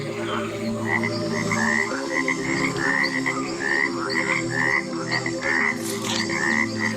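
Cane toads croak in a dense, continuous chorus of overlapping trilling calls at steady loudness, with no talk.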